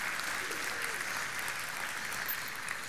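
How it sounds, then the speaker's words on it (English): A church congregation claps for the students serving at the worship service: a steady, even wash of applause from the whole room, heard at a modest distance with no talk over it. "Would you all give the students a round of applause for serving with us today?"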